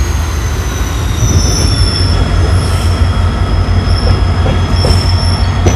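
A diesel locomotive hauls a train from Mangaluru Central toward Subramanya Road, with a steady loud rolling rumble and thin, high wheel squeals rising and fading above it throughout.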